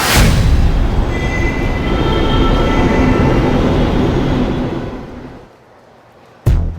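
A metro train rumbles loudly past with a faint metallic whine, fading out near the end before a sudden sharp noise; no voices.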